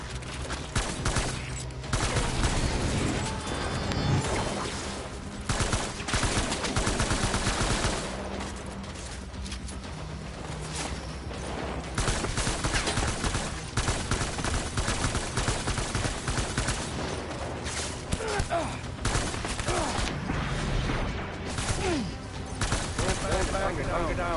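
Dense, continuous video game gunfire from Death Stranding, with loud overlapping bursts of automatic weapons and scattered explosions that fill the whole stretch, along with occasional voices and music.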